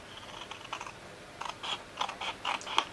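Paper being cut with scissors along drawn lines, a run of short crisp snips that grow more frequent and slightly louder, close and quiet with no talking.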